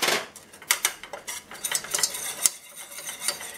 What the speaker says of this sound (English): I'm going to add the flour when this has melted and stir them until they're combined.